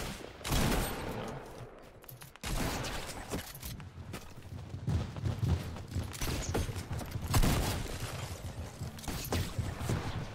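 Gunfire fills a Fortnite Battle Royale match in the Slide limited-time mode, with repeated sharp shots, bursts and clattering action from the game that run on and off, loud and busy throughout.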